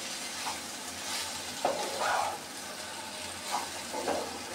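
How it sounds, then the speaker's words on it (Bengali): Okra fries in a pan as a close, continuous sizzle, with a few brief bursts of louder crackle and stirring scrapes along the way, heard alone without talk. "আরও কিছুক্ষণ আমি ভেজে নিব, তাহলে আমার ঢেঁড়স ভাজিটা তৈরি হয়ে যাবে।"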